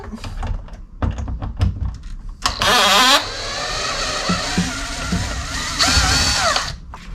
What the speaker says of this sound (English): So I've got my drill with my T20 attachment.